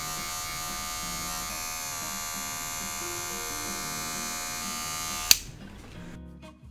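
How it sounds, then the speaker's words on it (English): An electric shaver buzzes steadily and close while shaving the bottom of a skin fade haircut, a continuous whine that cuts off abruptly with a click near the end, leaving quiet. "Now I am using my shaver and I am shaving the bottom of it."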